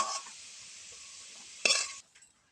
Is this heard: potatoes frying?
yes